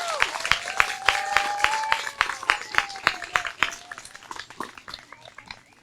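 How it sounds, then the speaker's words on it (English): At a 4th grade graduation ceremony, a class gets a round of applause: distinct, scattered claps with a high sustained tone running over them early on, thinning and fading toward the end. "Please join me in giving Miss Ott's class a round of applause."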